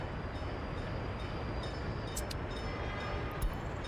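A train runs in the Workers and Resources city-building video game, a steady, continuous rumble of rail noise with faint high clicks and no voices.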